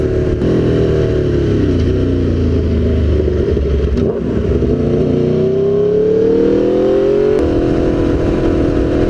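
A motorcycle fitted with bolt-on power upgrades accelerates hard on a freeway. Its engine drones loud and close as the pitch climbs through the gears, with a shift about halfway through and wind rushing over the whole run.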